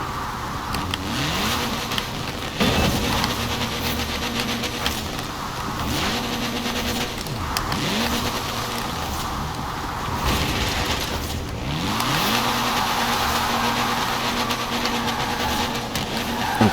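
A 1972 Reliant Supervan III three-wheeled van engine in a video game drones and revs up and down repeatedly while drifting, the pitch rising and falling as it accelerates, loud and close throughout.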